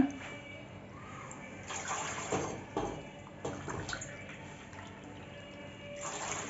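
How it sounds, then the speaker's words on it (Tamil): Water is poured into a mix of rice flour, jaggery and sesame for steamed kolukattai sweets, a soft, steady gushing pour at low volume. "அதுக்கு 4 மடங்கு நான் தண்ணி ஊற்றுறேன்"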